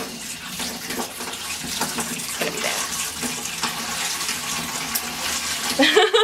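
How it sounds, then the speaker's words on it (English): Water pours steadily from a tap or hose into an outdoor bird bath, a continuous close splashing hiss with a voice briefly speaking over it. "there's no water in the bird bath. So we're gonna fill it up."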